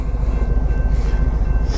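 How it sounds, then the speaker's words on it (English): A long freight train rolls past nearby, a loud, steady rumble with rhythmic clickety-clack from the wheels on the rails, heard alone without talk. "I caught you a train."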